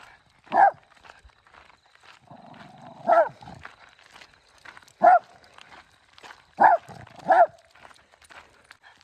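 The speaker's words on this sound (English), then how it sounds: "What are you barking at?" Dog barking indoors, five sharp single barks spaced a couple of seconds apart, fairly close, with quiet rustling and faint background noise in the gaps.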